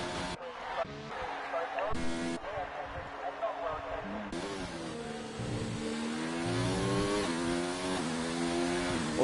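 Formula 1 cars run qualifying laps at the Australian Grand Prix in F1 2019, engines whining and rising in pitch as they pass, loud and continuous beneath a commentator speaking throughout.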